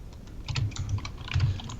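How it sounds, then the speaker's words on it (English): Computer keyboard typing up close, with irregular clusters of quick clicking keystrokes in short bursts and brief gaps between them, and no speech. "So I'll mute my mic so I don't hear typing."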